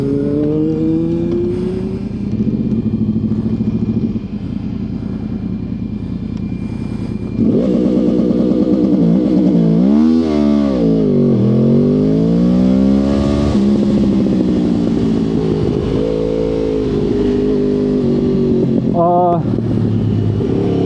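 A motorcycle on Dunlop KR rear and Pirelli Superbike front tyres rides around a karting track, its engine droning loud and close with rising and falling revs throughout, while someone talks over it.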